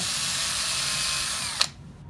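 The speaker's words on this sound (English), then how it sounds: "Now I'm going to use the 1/2-inch drill." A 1/2-inch power drill runs at a steady high whine drilling a pen blank, then cuts off with a brief click near the end, leaving quiet room noise.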